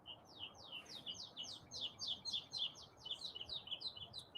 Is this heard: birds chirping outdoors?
yes